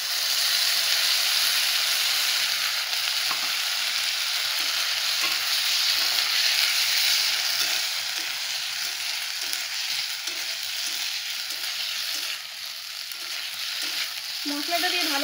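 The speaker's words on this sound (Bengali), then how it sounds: "মশলাটা দিয়ে ভালো করে কষিয়ে নেব একটু" Spice paste of ginger, cumin, chilli, turmeric, onion and salt frying with turmeric-fried potatoes in a pan, a steady close sizzle with scraping stirs throughout and no talking.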